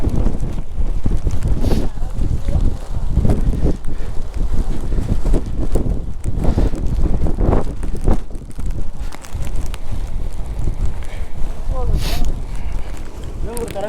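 Relentless wind buffets a helmeted rider on a rainy monsoon motorcycle trip through Chikmagalur, a loud, unbroken roar with rough gusts, while someone talks intermittently beneath it.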